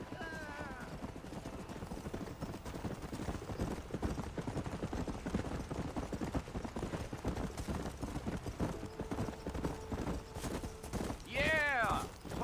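Horses in the Red Dead Redemption video game walk with steady, rhythmic clip-clop hooves beneath ongoing conversation, a brief whinny rising near the end.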